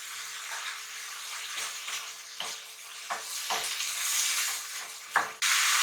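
Fish sauce and black sauce hitting a hot pan of minced beef stir fry, a steady close sizzle with repeated scraping stirs and a sudden louder hiss near the end.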